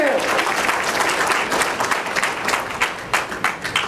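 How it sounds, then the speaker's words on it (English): An audience at a Rotary Club honors event applauds a gentleman, dense lively clapping from a room full of people that swells and then thins into scattered claps over a few seconds. "Let's get a round of applause for this gentleman."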